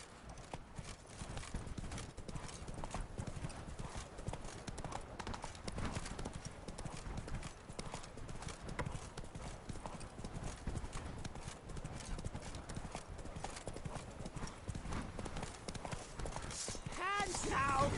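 Roach the horse galloping in The Witcher 3, rapid continuous hoofbeats close by with a brief whinny near the end.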